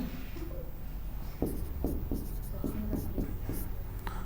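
Handwriting scratches on paper in short, quick strokes over a steady background hum, the pen strokes clustered in a rapid rhythm of about eight marks.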